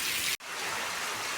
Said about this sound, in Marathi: पाऊस नाही हो, महापाऊस आहे म्हणायचा